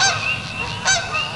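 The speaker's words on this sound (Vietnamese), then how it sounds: "Con ngỗng." A goose honks loudly and close by, three nasal calls with short gaps between them, with no other sounds around.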